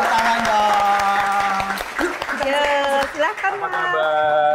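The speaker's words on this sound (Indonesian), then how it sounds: "Tepuk tangan dong." Audience applause at an Indonesian talk show taping as the mentalist guest is introduced, steady clapping under overlapping voices and a sustained musical tone, with talk continuing throughout.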